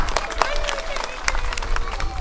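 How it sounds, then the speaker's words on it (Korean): A crowd gives brisk applause at a Korean martial arts demonstration of the twenty-four traditional techniques, a short burst of scattered clapping with murmuring voices underneath. "큰 박수 부탁드립니다."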